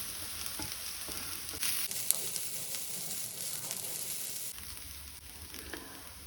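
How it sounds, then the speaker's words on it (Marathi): Grated coconut frying with onion in a pan for a Goan prawn masala curry, giving a soft steady sizzle with occasional stirring scrapes, close and quiet with no talking. "कांदो भाजून जालो तातूंत सोय घालतां।"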